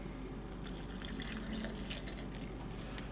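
2% milk pours into a blender vessel with a short, soft liquid splashing and trickling sound that lasts about three seconds, alone and close up.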